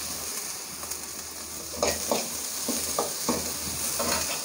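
Vegetables and spices sautéed in a pan for South Indian sambar, with a steady soft sizzle under a series of scraping stirs of the spoon against the pan, closely heard and without talk.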